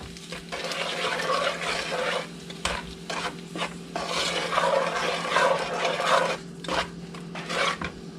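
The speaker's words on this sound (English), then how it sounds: "You just kind of slowly add your sugar, mixing it in as you go." Sugar is stirred into raspberry jam in a pot, a steady rasping, scraping swirl that rises and falls in strokes over a low constant hum, with no one talking.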